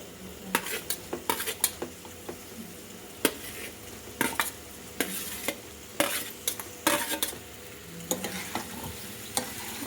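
Taro roots fry in a pan with small onions while a spoon stirs them. Sharp scraping clinks of the utensil against the pan come in irregular bursts over a steady low sizzle.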